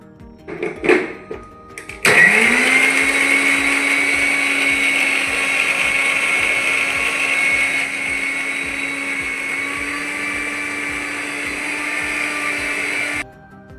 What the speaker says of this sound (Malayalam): ഇഞ്ചിയെല്ലാം ചെറുതാക്കി കട്ട് ചെയ്ത് മിക്സിയിലിടുക അങ്ങനെ ഒന്ന് നന്നാക്കി അടിച്ചെടുക്കുക